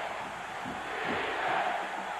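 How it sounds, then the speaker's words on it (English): Steady roar of a college football stadium crowd at a 1996 Tennessee vs Memphis game, with Memphis fans making noise: a continuous dense wash of cheering that swells slightly midway, distant and unbroken. "Crowd split just about 50-50 in terms of numbers, with the noise being made by the Memphis fans at the moment"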